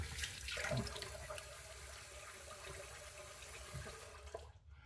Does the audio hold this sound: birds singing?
no